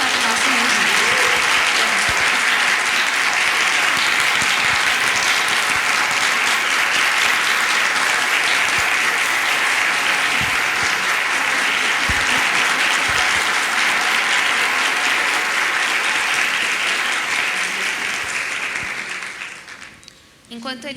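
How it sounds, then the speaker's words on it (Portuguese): A morning school talk audience gives a school choir loud, steady applause, a thick continuous wall of clapping that lasts almost twenty seconds before tapering off abruptly. "Por favor, uma salva de palmas para eles e para o nosso regime."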